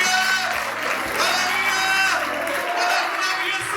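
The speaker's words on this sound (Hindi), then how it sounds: "आइए उसके लिए जोरदार तालियां बजाइए" Church congregation at a Sunday service clapping and cheering, loud and continuous crowd applause with whoops, mixed with voices and some music tones.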